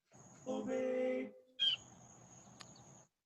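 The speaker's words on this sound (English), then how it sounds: "There's a freaking loud bird next to me." A loud bird calling right beside the microphone indoors, a couple of harsh raspy squawking calls in quick succession, close and prominent with no speech over them.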